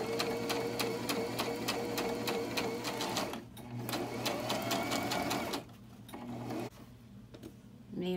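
A sewing machine stitches an envelope-style cushion cover, running in a fast, steady mechanical whir of rapid needle clicks, close and loud, pausing briefly as the fabric is turned at a corner and then starting again.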